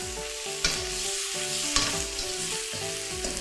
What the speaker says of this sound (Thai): ผัดไปเรื่อยๆค่ะให้ผักสุก